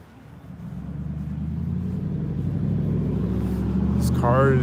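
A car engine rumbles low and steady as the car turns and drives past near a building corner, swelling gradually louder, with a voice speaking briefly over it at the end.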